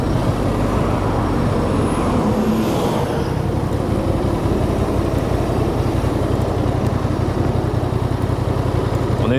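Stock exhaust of a Honda Transalp 750 motorcycle while riding, a steady dense engine drone mixed with road and wind noise, loud and continuous throughout.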